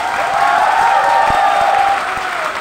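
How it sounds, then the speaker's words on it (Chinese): Crowd applause for the staff at the close of an indie band's performance at a department store, a loud sustained wash of clapping and some cheering with a few distinct nearby claps. "所有的工作人员一个掌声，好不好？"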